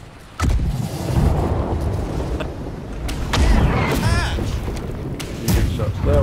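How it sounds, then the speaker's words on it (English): Deep booming cannon blasts from a galleon's cannons in the naval game Blackwake, several heavy thuds spread out over rumbling background noise. "Let's just fire the cannonballs."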